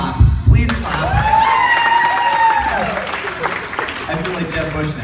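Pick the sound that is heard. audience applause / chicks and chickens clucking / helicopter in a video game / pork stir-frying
audience applause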